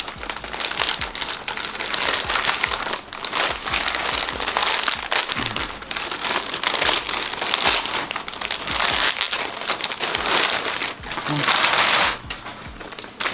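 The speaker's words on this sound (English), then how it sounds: "It came in this plastic bag, so it's not an unboxing, it's an unbagging." Continuous crinkling of a plastic bag being handled, rustling and crackling steadily and close by for the whole stretch.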